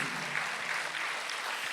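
Congregation clapping during a Korean Sunday church service, a soft, even patter of many hands heard from a distance, steady and unbroken for a short stretch.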